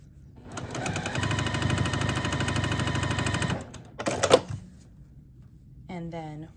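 A sewing machine runs steadily for about three seconds, stitching quilt block pieces together, followed by a few clicks and handling noises and a short burst of speech.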